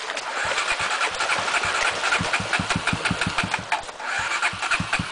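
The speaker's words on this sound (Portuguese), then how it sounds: "Esgota o carburador, Rodrigo." A motorcycle engine cranks and sputters as it starts, then runs in loud, uneven, close pulsing revs while the rider tries to clear the carburetor.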